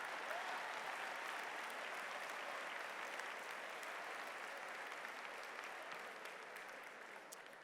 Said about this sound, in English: You better clap a little more